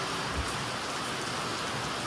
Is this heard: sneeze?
no